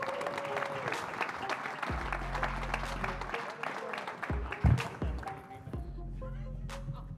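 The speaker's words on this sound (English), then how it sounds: "Give them a round of applause, please." An audience at a signing day show claps steadily for incoming coaches, a sustained, moderately loud round of applause with voices talking over it and a few thumps.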